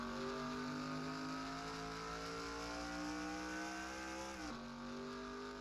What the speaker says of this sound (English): the cars are going to come off of pit road